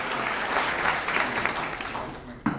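A breakfast audience applauds the school board president of McAllen ISD, a full, steady round of clapping from a room of people, with a sharp knock near the end.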